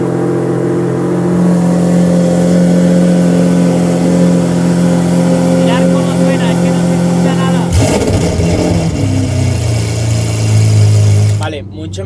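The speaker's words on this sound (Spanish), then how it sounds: "voy a encender el coche" Lamborghini SVJ engine running at a smooth, droning idle, then a sharp blip of revs near the end before settling back; a voice talks over the engine throughout.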